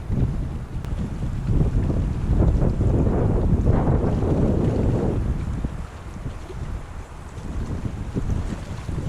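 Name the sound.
strong wind on Lake Tahoe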